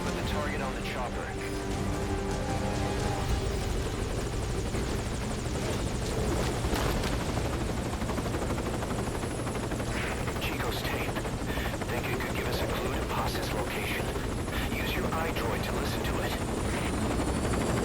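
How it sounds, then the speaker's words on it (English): A helicopter hovers in a video game, its rotor making a continuous, dense whirring drone that stays loud and steady for the whole stretch. "Put the target on the chopper."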